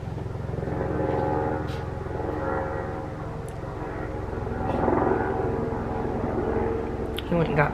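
Small propeller planes droning overhead in a desert neighborhood, a steady engine hum that swells and fades as they pass, with someone talking now and then.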